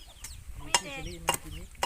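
Chickens cluck in short, scattered calls close by on a farm with cassava, with a few sharper bursts standing out over light background noise.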